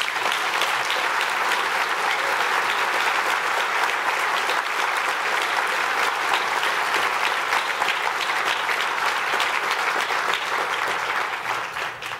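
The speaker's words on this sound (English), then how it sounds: "I would like to stop here and get a round of applause for the Appian engineering team" Sustained, dense audience applause fills a keynote hall at the Appian World 2015 conference, a steady roar of many hands clapping for the Appian engineering team, loud and unbroken for over ten seconds.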